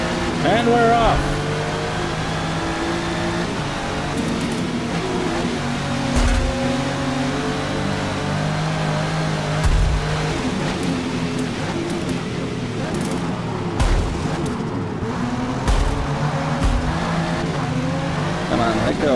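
Race car engines rev and accelerate in a racing video game, a continuous loud drone with rising and falling pitch, occasional tire squeal and bursts, under someone talking over the gameplay.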